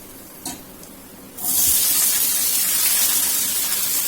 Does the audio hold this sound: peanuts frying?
yes